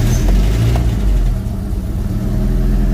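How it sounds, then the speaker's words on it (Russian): A Mitsubishi Colt car engine starts and settles into a loud, steady low rumble close by, with a brief rev near the start before easing down to idle. "И заводим бибику."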